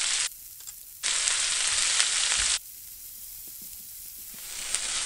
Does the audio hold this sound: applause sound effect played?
no